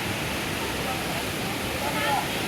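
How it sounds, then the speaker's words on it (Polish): A waterfall in a Costa Rican jungle national park, heard as a steady, dense roar of falling water that fills the whole clip at an even level, with no distinct individual splashes. "stąd można obserwować ten wodospad piękny."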